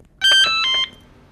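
A short bright chime of several rising and falling electronic notes sounds once from a phone as a message notification, clear and alone, in a domestic scene.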